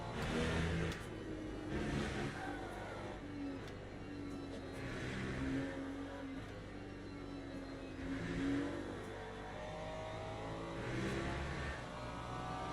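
LMP prototype race cars in the Le Mans Ultimate racing game: continuous engine drone with repeated rising and falling revs as the cars approach and pass, fairly loud and steady with no talk.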